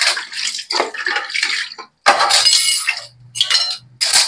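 Dishes being washed, with bursts of clattering plates and ceramic clinks over running water, loud and close in several separate spells with brief pauses between them.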